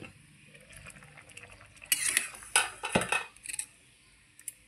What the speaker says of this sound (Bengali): আবারও ঢাকা খুলে দেখে নিচ্ছি